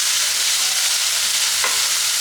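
Vegetables frying in a pan for pasta make a loud, continuous hiss close by, with one brief stirring scrape partway through and no talking.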